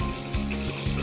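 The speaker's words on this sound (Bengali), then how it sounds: "এটাকে আমি আরো কিছুক্ষণ কষিয়ে নেব।" Chicken with yogurt and potato cooking down in a pan for chicken biryani gives a steady close sizzle with a low humming undertone, brief and continuous with no talking.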